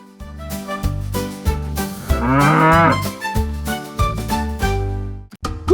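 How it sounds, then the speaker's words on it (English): Cartoon cow moos amid a bouncy children's nursery-rhyme song, the drawn-out lowing rising and falling in the middle of the music, loud and up front. "Cow."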